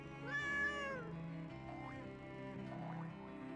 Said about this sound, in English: but I will still pat the cat.